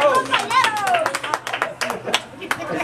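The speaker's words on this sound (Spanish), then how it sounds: "Un aplauso para el muchacho" Clapping at a mariachi birthday party, a short burst of hand claps mixed with singing voices and children's chatter, close and lively.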